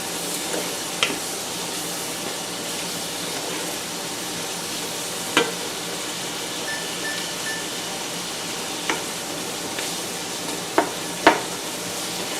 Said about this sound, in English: every now and then just go back to the onions and give them a stir